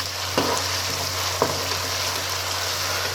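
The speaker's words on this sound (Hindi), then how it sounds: "अब इसको अच्छी तरीके से थोड़ा सा फ्राई करेंगे" Steady, loud sizzling of garlic ginger paste frying in a hot pan, with a couple of soft clinks from stirring.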